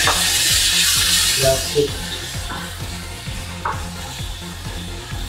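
Beef stroganoff with garlic is stirred in a sizzling pan, with loud, steady frying hiss and repeated scraping strokes of the utensil close by, and a voice speaking briefly.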